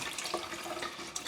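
Water runs and gurgles from a kitchen faucet as the pipes drain after the main supply is shut off, a faint, uneven splashing trickle with no talk.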